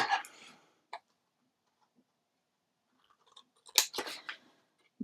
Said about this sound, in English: we're still going to go ahead and cut out these corners